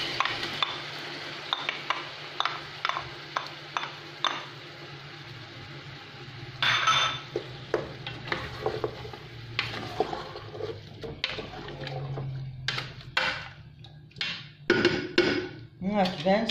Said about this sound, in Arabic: فوق كي تقلى لي شوية الدجاج راح نضيف البصل